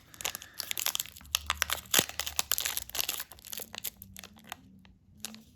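Foil wrapper of a Pokémon booster pack from a 25th anniversary Elite Trainer Box being torn and crinkled open, a dense run of crackling rips and rustles close up with a sharp tear near the middle, no talking.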